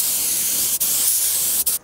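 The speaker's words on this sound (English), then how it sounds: "So I have finished spray painting this." A spray paint gun sprays in a loud, steady, close hiss that cuts out twice for a moment between bursts.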